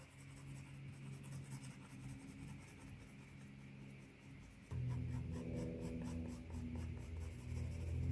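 A pencil scratches out hatching lines on paper in a quiet, steady rasp that continues throughout, with low background hum and no talking.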